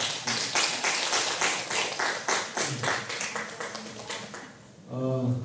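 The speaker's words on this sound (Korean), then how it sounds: "우리 박수하겠습니다." Church congregation clapping together for a member returning after surgery and recovery from COVID, a steady run of dense, fairly close handclaps that ends with a short voice.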